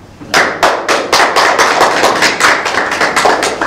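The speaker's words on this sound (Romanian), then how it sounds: "Aplaudați." An audience at a literary evening in Cluj claps in unison, a loud, regular beat of sharp claps about three per second that starts abruptly and carries on steadily with no talk.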